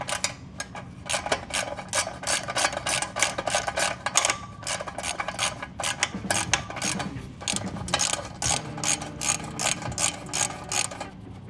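Rapid clicking of a 10mm ratchet loosening bolts on an old Wankel rotary motorcycle. The bursts of pawl clicks are close and crisp, separated by short pauses.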